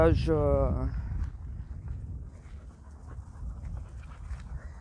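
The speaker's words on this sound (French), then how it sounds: "Ah mais c'est à lui le grand chien noir" A big black dog panting and padding about nearby indoors, a brief whiny vocal burst at the start followed by soft rhythmic breaths and footfalls, with someone speaking in the background.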